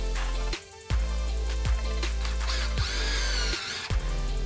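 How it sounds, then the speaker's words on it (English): A power drill boring pilot holes for mounting a screen track, a steady motor whine that runs nearly throughout, broken by a few short stops and restarts, close up with no speech. "And now we drill our pilot holes."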